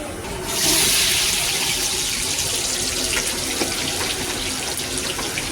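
Potatoes fry in a kadai on a stove, making a loud, steady, close sizzling hiss that swells in within the first second and then holds constant.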